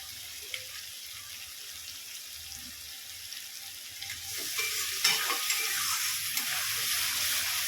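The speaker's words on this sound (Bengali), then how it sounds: "ভালো করে মশলাটা কষিয়ে নেবো" Masala spices fry and get stirred in a pan while cooking paper chicken, a steady close sizzle with scraping stir strokes that grows louder and busier in the second half.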